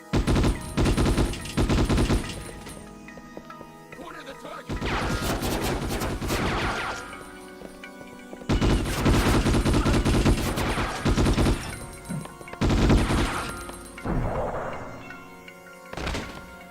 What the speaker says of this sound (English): You can carry two weapons at any one time, ranging from machine guns